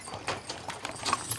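Horses pulling a wagon train across the Mojave Desert in Death Valley, with a loose, uneven clip-clop of hooves at moderate distance and several overlapping hoofbeats in quick succession.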